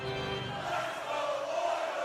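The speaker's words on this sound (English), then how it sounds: "you can feel the energy in this crowd" Crowd cheering in an ice hockey video game, a dense, steady roar of many voices filling the arena late in a tied period, with no commentary over it.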